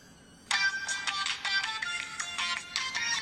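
An electronic phone ringtone sounds as the mother calls, starting abruptly and repeating in steady bright trilling bursts, fairly loud and close with no talking over it.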